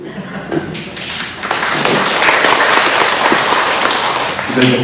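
Steady applause from a church congregation during a worship service, dense clapping that builds after a moment and holds at a loud, even level.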